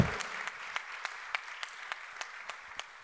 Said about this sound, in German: finde ich auch, dass das einen großen Applaus verdient.